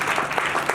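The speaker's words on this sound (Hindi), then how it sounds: "जोरदार तालियां दें।" Applause from an audience at a religious teaching session, a short steady patter of many hands, close and fairly loud with no talk over it.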